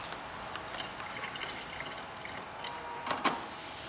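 Water poured into the windscreen washer reservoir of a 1991 Toyota Carina, a steady close trickle and splash running a few seconds with a brief sharper gurgle near the end.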